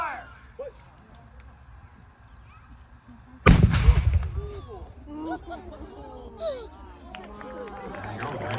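A single loud boom from a small historic artillery gun fired at Fort North, Canada, booming close and then rumbling away, followed by crowd chatter and murmuring.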